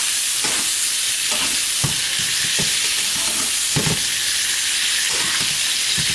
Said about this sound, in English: we're going to baste them with the herb butter mixture.